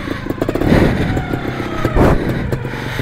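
A trials motorcycle engine revs loudly and close, with dense mechanical roar surging in two bursts of torque-heavy acceleration over a rough, rattling idle.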